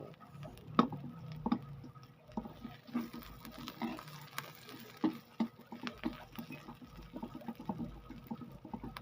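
Chopped onions and garlic sautéing in a pan for a Filipino vegetable stir-fry, a quiet steady patter of small sizzles and ticks with occasional louder pops and utensil clinks.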